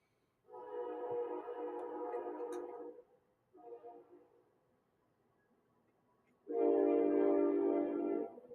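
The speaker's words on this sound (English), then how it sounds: "So sorry about the train." A passing train sounds its horn in three long, loud blasts, the middle one shorter and softer, with quiet gaps between them and no talking.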